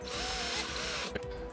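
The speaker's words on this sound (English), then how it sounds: "Now it's time to drill these holes so we can screw on the swivel bracket" Power drill boring holes into a caravan wall to mount an awning swivel bracket, a steady close whining drone for over a second before cutting off abruptly, then a brief clack.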